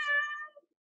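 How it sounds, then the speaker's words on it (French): A house cat lets out a single short complaining meow, close and clear, rising then falling over under a second before silence. "Désolé, c'est mon chat qui rouspète."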